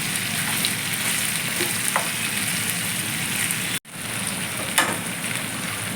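Ivy gourd (tindora) frying in oil in a pan, a steady close sizzle with soft crackles throughout, broken by one brief dropout near the end before the frying resumes.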